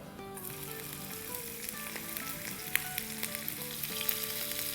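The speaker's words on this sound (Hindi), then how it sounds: "तो अब इसमें हम डाल देंगे 1 टीस्पून साबुत सफ़ेद ज़ीरा" Whole white cumin seeds and finely chopped green chili sizzling in hot oil, with a steady crackling fry and scattered sharp pops throughout.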